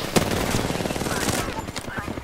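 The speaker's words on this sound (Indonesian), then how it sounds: "Aku nusur orang, aku tengah tembak dia." Rapid video game gunfire rattles in bursts, loud and close, with a sharp report near the start and excited voices talking over the shooting.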